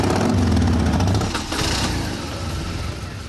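Electric and conventional motorcycles in a group ride start up together, giving a loud rough engine drone and revving that dips briefly partway through and then settles into a steadier running hum.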